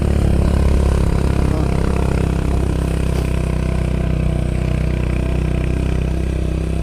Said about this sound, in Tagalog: Pasensya na po sa ingay ng motor ha.